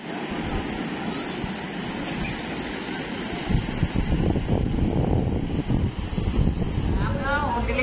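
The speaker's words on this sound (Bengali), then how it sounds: "তেমনি সমুদ্র উত্তাল" Rough sea surf and gusting wind roll in at a beach at dawn on the coast at Puri, a continuous loud roar with wind buffeting the microphone and swelling toward the end.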